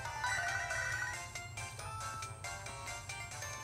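A bright electronic ringtone chimes repeatedly in the Pokémon HeartGold video game, signalling an incoming email on the in-game phone, with a rhythmic melodic pattern over game background music.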